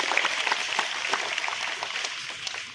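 Audience applause at a devotional music event honoring singers, steady dense clapping filling the short stretch at moderate level with no voices over it.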